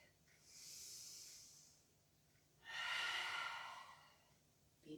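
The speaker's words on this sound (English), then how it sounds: "taking a breath." A person breathes slowly during a yoga flow: a long airy inhale, a short pause, then a fuller exhale, close and soft with no talking.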